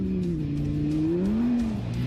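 A Lamborghini Gallardo sports car driving, its engine a steady loud drone whose pitch sags and then climbs as it pulls, heard from close by without any voices.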